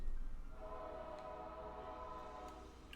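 A train rolls past on nearby tracks, a low steady rumble with a sustained multi-tone horn sounding over it, fairly distant and continuous with no talking.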